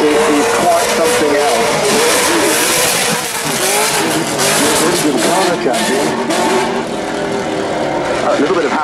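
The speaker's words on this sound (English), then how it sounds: "Bugsy's on his way, donutting in front of the house." Race car doing donuts in front of a house at the Goodwood Festival of Speed 2016, engine revving hard and steadily with tyre squeal, loud and close, while a commentator talks over it.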